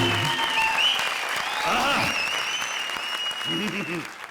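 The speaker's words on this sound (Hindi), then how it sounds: "जोरदार तालियां" A burst of loud studio audience applause during a qawwali performance on a comedy show runs throughout, mixed with music and a voice speaking over it.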